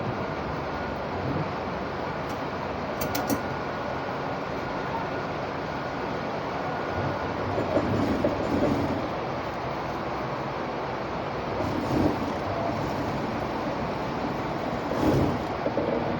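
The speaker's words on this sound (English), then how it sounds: "I'm running double stitch, following the same stitch, the first stitch, to make sure that the thing is straight." An electric sewing machine runs a continuous double stitch along a trouser waistband, a steady close motor hum with faint periodic swells and no talking.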